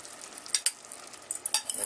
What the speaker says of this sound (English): So the next thing I'm gonna do is add the rice.